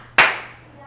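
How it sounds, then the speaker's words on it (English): A single sharp hand clap from a dance routine, struck loud and close, with a short ringing decay and quiet before it. "two claps, and repeat"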